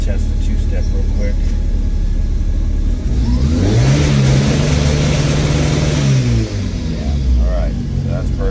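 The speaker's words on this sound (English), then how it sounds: "let's just test the two-step real quick" A truck engine revs hard on two-step launch control, holding a steady high drone that rises and falls, with the loud, popping, stuttering rhythm of the limiter over a constant low rumble.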